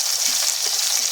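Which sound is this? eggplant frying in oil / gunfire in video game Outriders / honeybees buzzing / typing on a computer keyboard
eggplant frying in oil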